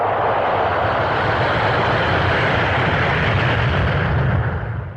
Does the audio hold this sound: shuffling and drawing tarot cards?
no